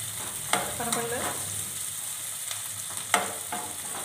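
Ginger garlic paste, made from about twenty garlic cloves and two inches of ginger, drops into a hot pan for a mushroom green chili turmeric fry, giving a few sharp splattering sizzles and stirring scrapes over a steady background hiss.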